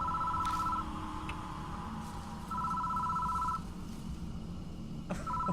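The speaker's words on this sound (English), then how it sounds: "Phone starts ringing out of nowhere." Telephone ringing in the visual novel game Death Mark: repeated electronic ring bursts, one at the start and another a few seconds later, sounding steadily over a dark ambient music bed, with no talking.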